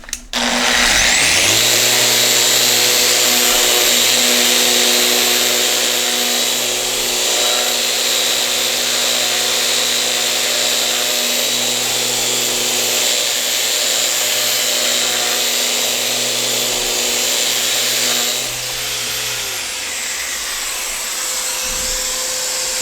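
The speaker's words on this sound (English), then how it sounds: "try to do some sanding here" An electric sander powered by a generator whines steadily at high speed sanding wood for a long stretch, loud and close, with slight shifts in pitch before winding down.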